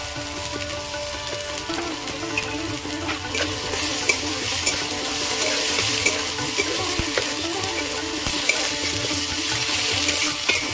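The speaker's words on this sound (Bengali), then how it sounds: "সবকিছু দিয়ে আমি ভালো করে মশলা ভাজা ভাজা করে দিয়েছি" Ginger, turmeric, chili powder and cumin powder fried and stirred in hot oil for a katla fish curry with potato and cauliflower: a steady, loud, close sizzle with scraping stirs throughout.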